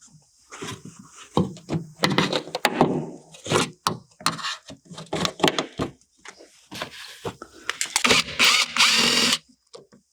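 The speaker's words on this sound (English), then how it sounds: "Gonna wiggle and pull on these door panels." Close scraping and creaking of plastic and wood as an old Ford car door panel is wiggled and pulled loose, with sharp bursts of rubbing and rasping in uneven, irregular spurts.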